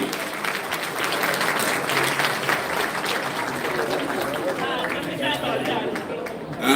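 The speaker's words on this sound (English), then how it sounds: "Brothers and sisters, a huge round of applause for Namani Gaz and Dr. Abdul Bari." A large audience at an evening gala event bursts into sustained, dense applause that holds steady and loud throughout, with crowd chatter mixed in.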